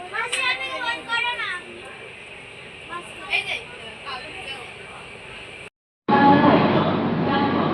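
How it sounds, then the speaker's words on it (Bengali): Passengers ride inside a moving train near Malda station, with steady rumbling carriage noise under a child's and adults' voices, a brief dropout, then a louder surge of rolling rail noise. "আমরা ট্রেনে উঠে পড়েছি"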